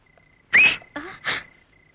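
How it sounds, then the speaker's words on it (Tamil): A man whistles to get a woman's attention in a Tamil film scene: a short sharp whistle followed by two more breathy whistled bursts, close and alone against a quiet background. "நம்ம நாட்டு பொம்பளைங்க விசில் அடிச்சா தான் திரும்புறாங்க"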